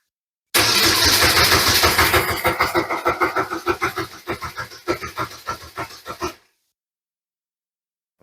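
A race car engine spins on its starter during a compression test with the plugs out, giving a rapid rhythmic chug of cranking pulses for about six seconds that slows and fades before stopping.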